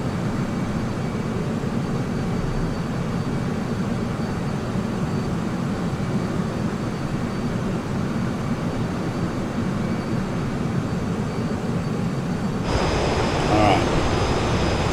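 An A-6 Intruder jet in Microsoft Flight Simulator holds a steady, broad engine roar in flight, with a darker rumbling shift toward the end.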